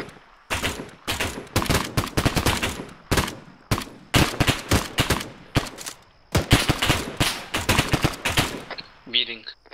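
Gunfire in the Arma military game during a convoy operation with a sniper reported to the southeast: rapid, loud bursts of shots in quick clusters, continuous for several seconds with brief pauses, close and sharp.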